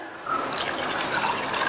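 Water pours into a pressure cooker holding soaked peanuts, a close, steady splashing stream that starts abruptly after a brief quiet moment and continues to the end.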